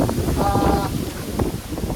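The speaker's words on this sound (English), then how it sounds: "as you can see, it's super windy" Steady wind buffets the microphone with a low, continuous rumble, with faint voices in the background.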